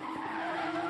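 Race car tyres skidding and squealing as the car spins out in the F2 2020 racing game, a steady loud screech with engine tone lasting about a second, no talk.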